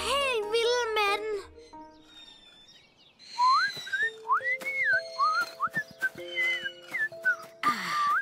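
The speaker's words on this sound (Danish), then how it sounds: "I tre laver nogle interessante fløjtelyde med jeres juicebrikker." Children in a cartoon blow across empty juice boxes, making wavering, warbling whistle tones in a string of short rising and falling notes, with a voice heard at the start.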